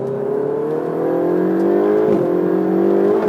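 The 4-litre twin-turbo V8 of a 2015 Ferrari 488 GTB roars steadily and climbs in pitch as it revs, loud and close, with a brief dip midway.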